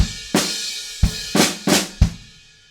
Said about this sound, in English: Right before that, there's 2 flams on and 4 with a kick drum afterwards.